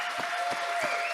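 A church congregation applauds its pastors in a brief burst of close, dense hand-clapping, with a few sharper individual claps and a steady hum from the sound system underneath.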